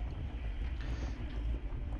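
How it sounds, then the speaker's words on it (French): Steady wind rushes and buffets across the microphone during a road bike race, a continuous low roar with no voices. "ce jour-là il y avait vraiment pas mal de vent"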